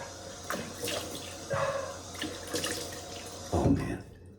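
Water runs from a tap into a sink while a man rinses his face after shaving with a safety razor, with intermittent splashes and bursts of flow close by.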